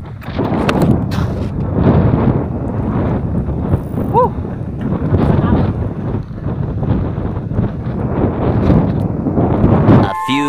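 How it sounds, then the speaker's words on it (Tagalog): Strong headwind buffets the microphone on an uphill bicycle ride in Carmen, Baguio, a continuous loud rumbling roar with a voice speaking over parts of it. "Grabe mga kapom yung hangin. Lakas."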